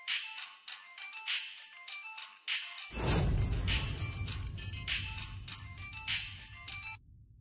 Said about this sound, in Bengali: আরে বাবা ফোনটা ধরবে তো, তখন থেকে ফোন ট্রাই করছি